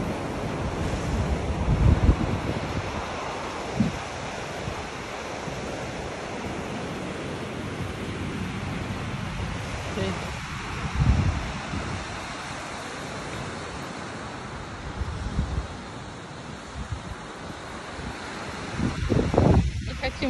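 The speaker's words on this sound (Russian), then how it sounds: "Море сегодня обалденное просто." Sea waves wash onto a beach in strong wind, forming a continuous loud roar with periodic surges as waves break, overlaid by gusty wind buffeting the microphone.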